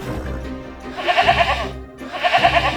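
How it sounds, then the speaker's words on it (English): A goat bleats twice in a row, two wavering, nasal cries with a brief gap between them, loud and close, set against a soft background. "Goat."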